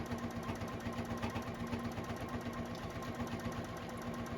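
A JUKI sewing machine stitching through several layers of fabric on an apron, back tacking at a corner, producing a steady, fast mechanical rattle at close range.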